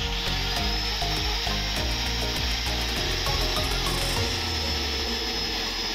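Grinder fitted with a core bit boring a hole through a plastic water tank wall, a loud continuous grinding whine with rhythmic rubbing pulses, steady and close throughout with no talking.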